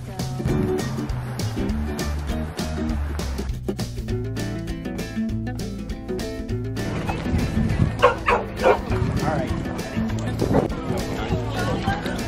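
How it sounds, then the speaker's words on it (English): A small Maltipoo dog barks at a pigeon in an apple orchard, letting out repeated high yips and whimpering barks at close range. People talk and laugh nearby. "He sees the pigeon. It's so funny, he's barking at it."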